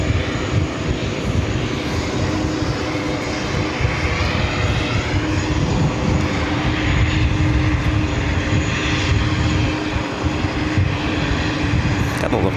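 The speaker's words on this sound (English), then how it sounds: "There's something looking forward to seeing the Etihad A380 Super pushing back and of course taking off as well" Etihad Airbus A380 airliner at JFK airport, a continuous loud engine roar with steady rumble and whine filling the scene from start to finish.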